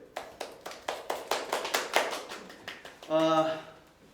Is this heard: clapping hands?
yes